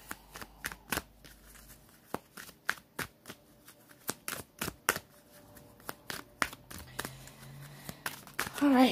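Tarot cards being shuffled by hand in a quiet room, a series of about twenty crisp riffling snaps at an uneven, steady pace, close and fairly soft, with a brief voice near the end.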